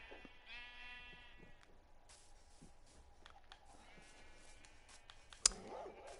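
Sheep bleat in Minecraft, including a glow sheep, with a couple of faint, drawn-out calls, light clicks scattered between them and a sharp tap near the end.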